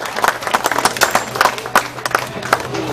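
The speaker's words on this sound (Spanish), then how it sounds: "a ver el aplauso que se escuche fuerte" Crowd applause for a dairy cow contest winner at a coffee fair, dense rapid clapping with sharp individual claps standing out, fairly close and lively throughout.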